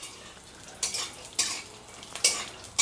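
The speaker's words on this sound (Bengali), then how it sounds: "বাদামগুলোকে হালকা হালকা নাড়তে লাগবো," A utensil stirs nuts frying in oil in a pan, scraping in a few distinct strokes over a faint steady sizzle, with no voices.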